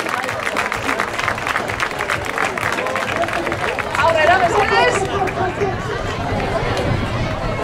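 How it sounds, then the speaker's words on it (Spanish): Audience at a pet contest in a department store applauds steadily for several seconds, crowd chatter and murmuring mixed in with the dense clapping throughout. "Un fuerte aplauso, por favor."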